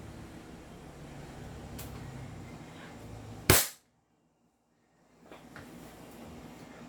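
A 2011 Staccato 5.1 upgraded airsoft pistol fires a single sharp, loud crack over a steady room hum, followed by a few seconds of near silence before faint background noise returns.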